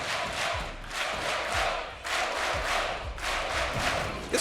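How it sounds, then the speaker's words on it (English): A large esports crowd at the Six Berlin Major grand final roars and chants in surging waves with rhythmic thumps, a loud, continuous arena din. "Absolutely unbelievable noise inside."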